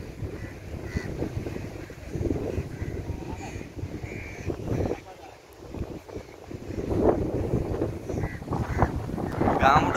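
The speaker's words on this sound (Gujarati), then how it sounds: "પવન જે આવે છે ઠંડો" Cold wind blows through a coastal Tamil Nadu fishing village near Dhanushkodi, rumbling and buffeting close against the microphone in uneven gusts, with crows cawing in the background.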